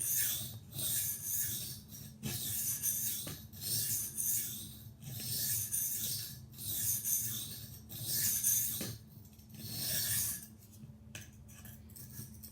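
A Spyderco Para 2 knife with an S30V steel blade is honed freehand on a Shapton Kuromaku 320-grit whetstone, giving rhythmic, raspy scraping strokes in steady back-and-forth bursts, close and clear with short pauses between passes.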